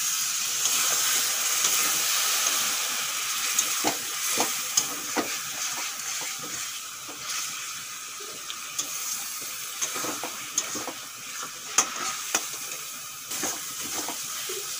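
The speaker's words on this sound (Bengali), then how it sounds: "গুঁড়ো মশলা দিয়ে ভালো করে আমি কষিয়ে নিয়েছি।" Powdered spices for duck curry, loosened with a splash of water, sauté in a pan: a continuous sizzling hiss broken by frequent sharp spatula clicks and scrapes, close and fairly loud.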